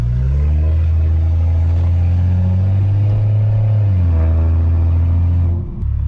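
Straight-piped, built 600HP BMW 335i E90 with pure turbos and stage 2 tune, loud deep engine drone close up while driving, steady low rumble with a brief dip near the end.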